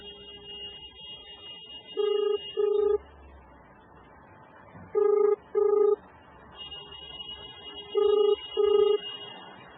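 A telephone call rings out on the line, with three evenly spaced double-pulse ringing tones against a quiet background and no voices.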